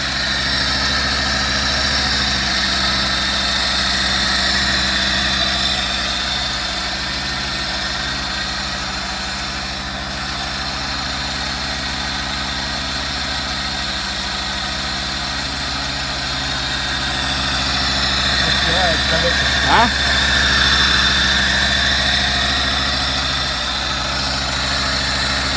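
A GAZ car engine idling at about 700 rpm makes a steady low hum with a constant rumble and faint vibration, close and continuous and alone, with a brief small rattle near the end.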